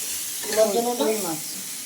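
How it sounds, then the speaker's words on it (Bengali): Vegetables fry in a pan in a home kitchen with dal cooking alongside, giving a soft continuous sizzle and hiss while a voice briefly murmurs over it midway. "এই সাইডে কাঁকড়ি ভাজা আছে"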